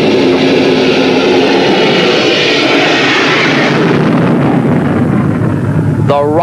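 Rocket car engine firing during a 1979 land speed record run, a loud, continuous broadband roar with heavy wind rush that stays steady throughout, with a brief tonal sound near the end.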